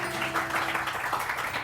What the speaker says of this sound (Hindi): अरे ताली तो बजा दो।